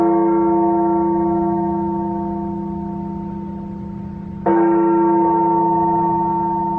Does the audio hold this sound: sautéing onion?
no